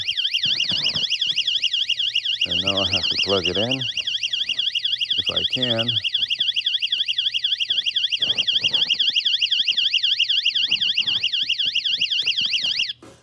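A loud, piercing electronic power-failure alarm warbles rapidly up and down without pause, set off by unplugging the unit, while a person speaks briefly over it before it cuts off.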